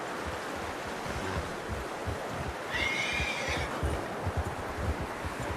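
A horse whinnies once in Red Dead Redemption 2, a short bright neigh rising midway over a steady wash of ambient outdoor game noise and low rumble.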